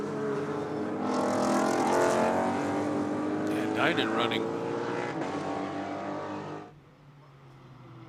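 Race cars roar past on a circuit during a timed lap session, a loud sustained engine drone that rises and shifts in pitch before dropping away near the end, with a commentator talking over it.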